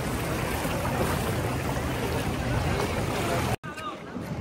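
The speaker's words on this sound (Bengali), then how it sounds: "আমাদের বোট চলে আসছে, স্পিড বোট।" A speedboat arrives on the water on a Thailand trip, a loud, continuous roar with heavy wind rush that cuts off abruptly near the end, with voices faintly underneath.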